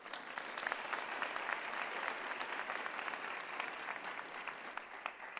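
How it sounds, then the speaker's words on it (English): An audience at a graduation ceremony applauds the graduates, with steady sustained clapping from a large crowd that fills the whole stretch at moderate distance. "let's give them a warm round of applause"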